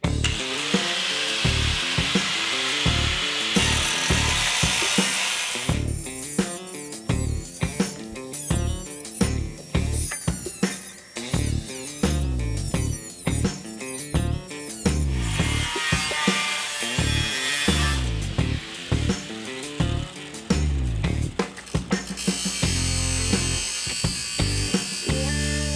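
Sheet metal being cut into a three-inch circle for a Chevy C10 fire truck cab, giving steady, loud rasping tool noise in rapid strokes with brief pauses throughout.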